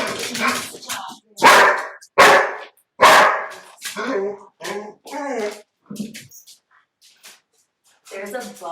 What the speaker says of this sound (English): there's a bug and he's barking at it